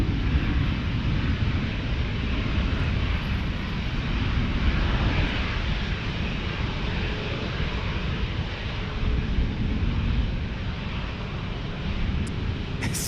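An American Airlines jet takes off down the runway at San Diego airport, giving a steady, loud engine roar with broadband rumble and wind noise that holds for the whole stretch.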